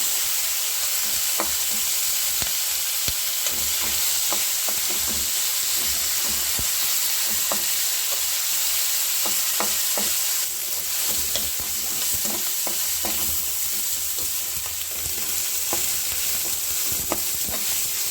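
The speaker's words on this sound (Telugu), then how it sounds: "బాగా ఫ్రై చేసుకోవాలి" Upma ingredients fry steadily in a hot oily pan with onion, giving a continuous close sizzle while a spoon stirs and scrapes against the pan in repeated light clicks throughout.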